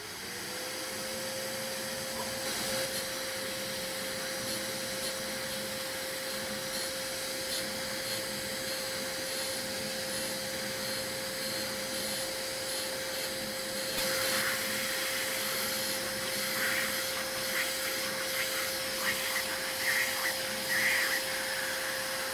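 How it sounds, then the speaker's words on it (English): A dust extractor vacuum runs steadily throughout carbide grinding, a loud, even broadband rush with a constant whining tone held from start to finish and brief rises in hiss partway through. "I have the hose of the dust extractor down here because I do not want to have all the carbide dust all over the shop"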